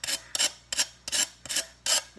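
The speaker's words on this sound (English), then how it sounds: "I'm just using a sanding sponge here" A sanding sponge rasps back and forth against the edge of a sliding glass door kit part, six quick even strokes in a steady rhythm, close and clear with nothing else over it.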